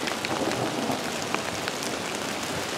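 Rain falls steadily around an off-grid cabin, a dense even patter of drops on surfaces with scattered sharper taps, close and continuous.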